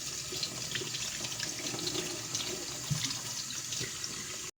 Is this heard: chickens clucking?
no